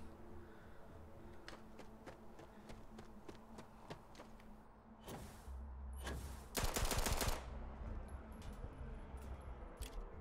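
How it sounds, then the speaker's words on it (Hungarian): Gunfire in the video game Starfield rattles off in quick, sharp bursts, first a run of fainter shots and then a louder, denser volley over a low game hum, with no voices. "Itt nem zavarja az embereket a lövöldözés."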